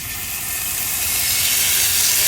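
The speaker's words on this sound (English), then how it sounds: "We're going to start to brown our meat." Meat sears in a very hot oiled pan, producing a loud, dense, continuous hiss and sizzle that swells slightly over its short run.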